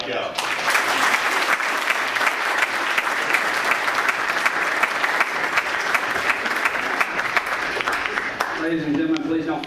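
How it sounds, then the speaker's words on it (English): Sustained applause from an audience at a city council meeting, dense steady clapping for most of the time before it thins out and a voice begins near the end. "Let's give a big round of applause."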